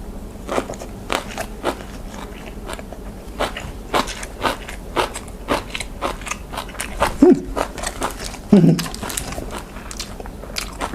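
Crispy pork being bitten and chewed, a series of sharp close crunches at an irregular eating rhythm, with a couple of brief vocal sounds between them.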